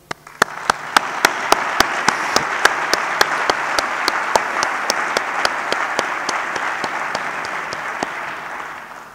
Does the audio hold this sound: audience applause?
yes